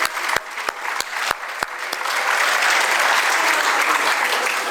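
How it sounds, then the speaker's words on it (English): Applause from a large audience at the Eastern Indiana Business Hall of Fame event for children from Junior Achievement, opening with a few sharp separate claps and swelling into a sustained, loud, dense ovation. "one more round of applause for the kids from Junior Achievement"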